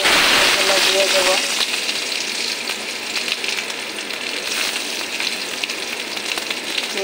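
Chopped onion and green chillies frying in oil with black cumin, a strong continuous sizzle that is loudest at the start then settles into a steady hiss, with no clear talk.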